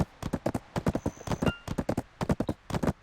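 Horse hooves clip-clop in steady, rapid bursts in the MMO Black Desert, a bred horse trotting along with a brief faint whinny-like tone partway through, fairly quiet and heard without talk.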